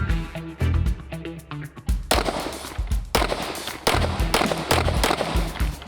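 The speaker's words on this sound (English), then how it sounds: "Those are my very first shots out of this gun." A Springfield Armory 1911 DS Prodigy Comp pistol is fired outdoors in a string of sharp, loud shots, a few spaced rounds first and then quicker bursts, each with a short echoing tail.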